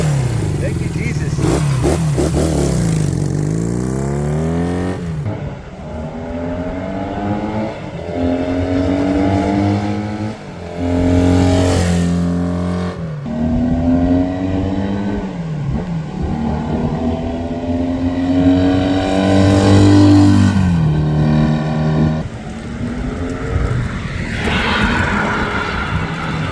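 A 1971 Honda CB175 Super Sport motorcycle engine revs hard and close, climbing and dropping through repeated throttle blips in a loud, sustained, buzzing rise-and-fall.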